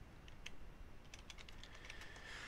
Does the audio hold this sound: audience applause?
no